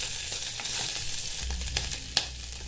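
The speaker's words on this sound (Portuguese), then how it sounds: "aqui na minha panela eu já coloquei para fritar o bacon e a calabresa" Bacon and calabresa sausage frying in their own fat in a pan with no oil, a soft continuous sizzle and crackle with occasional stirring clinks, fairly quiet and close.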